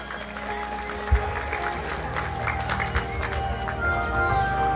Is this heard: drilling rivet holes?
no